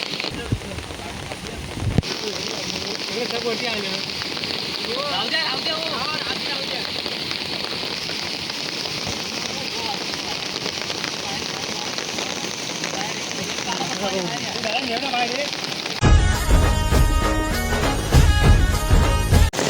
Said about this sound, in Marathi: पावसाची पहिली वल्गन आहे बघा